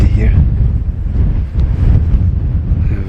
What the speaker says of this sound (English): Gosh, it's windy here.